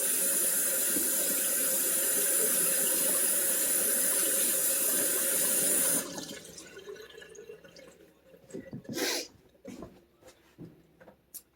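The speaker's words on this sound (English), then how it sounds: "I'm going to rinse my hands off again" Running tap water pours steadily as hands are rinsed at a kitchen sink while making meatloaf, then cuts off midway, leaving a few faint drips and small handling sounds.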